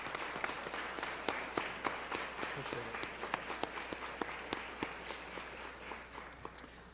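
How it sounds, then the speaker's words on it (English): Scattered, sparse clapping from a small audience at an honors convocation, individual claps spaced irregularly over a steady low hum, fairly quiet and distant. "Everyone please join me in a round of applause to show our appreciation to them."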